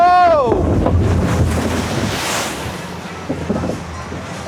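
A log flume ride plunges down its drop and hits the water, heard from on board as a roaring rush of water and wind buffeting the microphone, loud and continuous, with brief shouts from riders at the start.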